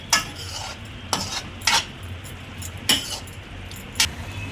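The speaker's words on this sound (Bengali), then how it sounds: "তারপরে নাড়াচাড়া করছি যতক্ষণ না পর্যন্ত চিকেনটা সেদ্ধ হচ্ছে" Chicken stirred in a pan with tomato, chili and soy sauces for restaurant-style mixed chowmein, several distinct metal spatula clanks against the pan at irregular intervals over a low sizzling background.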